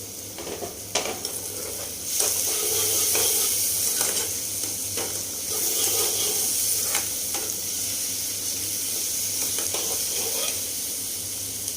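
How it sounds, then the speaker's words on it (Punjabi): Onions and tomatoes roast in a pan for saag over a low flame, giving a steady, close sizzle broken by repeated scraping stirs of a spoon throughout, with no voices. "ਆਪਾਂ ਇਹਨੂੰ ਐਂ ਭੁੰਨ ਲਾਂਗੇ ਤੇ ਗੰਡਾ ਦੇ ਨਾਲ ਹੀ ਇਹ ਮਿਕਸ ਹੋ ਜੂਗਾ"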